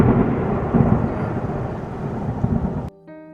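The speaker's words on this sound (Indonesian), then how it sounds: "Suara kilatan petir menyambar pohon tinggi." Loud thunder from a lightning strike on a tall tree, a heavy rolling rumble with rain-like crackle that stays strong and then cuts off sharply near the end, leaving a faint ringing tone.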